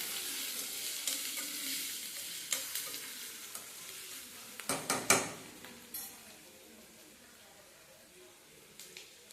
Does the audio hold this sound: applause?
no